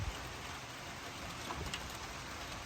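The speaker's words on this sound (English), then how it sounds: "the sun is coming out, even though it's still raining." Steady, faint rain hisses evenly, with a few soft drips and taps standing out now and then.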